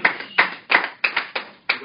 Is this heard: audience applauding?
yes